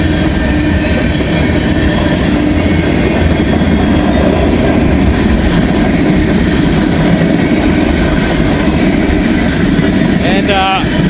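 CSX and NS freight trains roll past one after another, a loud continuous rumble of wheels and wagons with clickety-clack rhythm, and a voice briefly speaks near the end.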